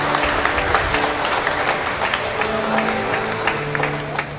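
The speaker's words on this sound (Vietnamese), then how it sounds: "Chúng ta một tràng pháo tay để chúc mừng lễ." A congregation applauds at a Catholic Trinity Sunday Mass, steady mid-level clapping with a faint murmur of the crowd and some tonal background hum.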